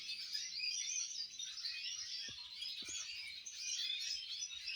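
Female yellow mosaic canary chirping and twittering continuously, a bright, fairly close song that runs throughout with soft background noise and a few faint low knocks.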